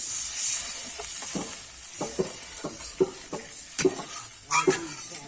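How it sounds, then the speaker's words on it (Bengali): A spoon scrapes repeatedly through spinach gravy as milk is stirred in, making a steady series of close, wet scrapes over a soft, continuous sizzle in the pan. "দুধটা কিন্তু দিয়ে দেবো দিয়ে কিন্তু আমি একটু নেড়ে নেব"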